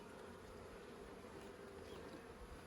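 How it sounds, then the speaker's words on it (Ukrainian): Honey bees hum steadily at an open hive during spring queen handling, a close, continuous drone with no breaks and no voices. "Тут бджолка."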